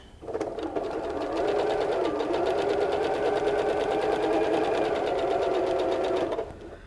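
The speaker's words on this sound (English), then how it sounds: "You're just going to sew 1/4 inch." A sewing machine runs steadily for several seconds, stitching a quarter-inch seam on a Christmas stocking with a close, even whirring hum.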